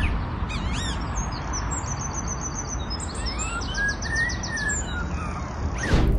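A real bird mimics a vehicle siren, starting with quick high chirps and then a slow, rising-and-falling whistled wail, fairly faint over a steady outdoor background hiss.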